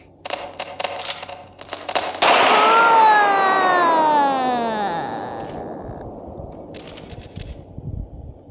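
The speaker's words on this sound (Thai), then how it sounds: "ฉันจะกดระเบิดมัน" A loud burst erupts and trails off into a long descending whistling tail, with scattered chatter and game noises before and after.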